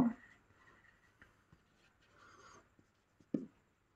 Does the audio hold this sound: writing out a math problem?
yes